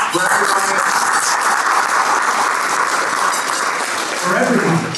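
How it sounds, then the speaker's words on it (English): Audience applause at a Hellenic Canadian Board of Trade business awards gala, a steady wash of many hands clapping that fills the room for the whole stretch, with voices faintly mixed in near the end. "And a round of applause, please,"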